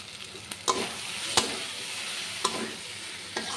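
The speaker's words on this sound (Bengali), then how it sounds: "এবার আমি ভেজে রাখা চিংড়ি মাছগুলো দিয়ে দেব" Fried prawns go into a sizzling pan of curry with ridge gourd and potato. A steady frying hiss runs throughout, broken by several sharp clinks and scrapes of stirring, all close and fairly loud.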